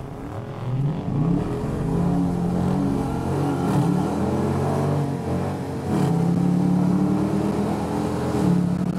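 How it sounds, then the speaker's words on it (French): A car engine revs up, drops briefly as a gear changes, then climbs again, heard from inside with a steady road rumble on an airfield runway. "Oh, le bruit du passage de vitesse."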